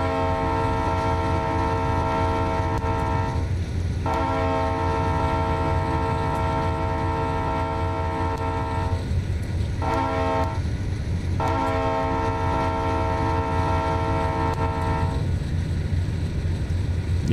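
Diesel locomotive horn in Train Simulator 2015, a Dash 8 running through Miami: a long, loud chord blast, a pause, two short toots, then another long blast over the steady engine rumble.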